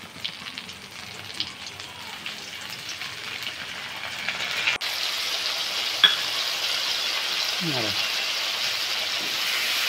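Turmeric stirred into water poured over spices frying in hot oil, a sudden broad sizzle that flares up and holds steady, close and loud, with a voice speaking over it.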